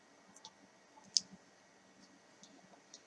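Soft, isolated mouse clicks on a quiet desk, about a handful spaced irregularly, with one sharper click standing out, otherwise near silence.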